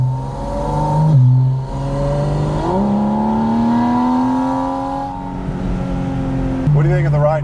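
A Porsche Spyder RS engine drones steadily while driving, pitch rising slowly through a gear then dropping at shifts, with people talking over the cabin sound.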